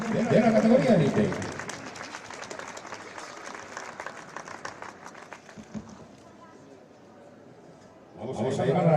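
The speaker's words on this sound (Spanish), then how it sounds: "Un fuerte aplauso al podium de la categoría élite." Crowd applause for the elite category podium at a women's cycling race trophy ceremony in Estella, a burst of clapping that thins to scattered claps, with an announcer's voice over it.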